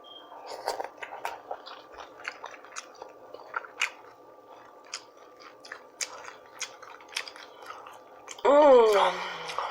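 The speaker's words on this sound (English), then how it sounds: "I'm gonna eat some more for y'all" Close, wet chewing and biting of rotisserie chicken with sauce and crunchy cucumbers in a mukbang, with irregular smacks and crunches, followed by a brief voiced exclamation at the end.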